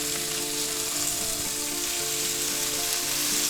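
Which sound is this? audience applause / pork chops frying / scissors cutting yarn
pork chops frying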